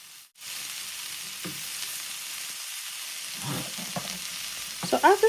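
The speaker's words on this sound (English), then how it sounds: "I'll go ahead and add in my spring onion at this time. And I'll stir this up together." A cabbage and spring onion stir fry sizzles steadily in a pan, with a few scraping stirs that grow busier and louder near the end.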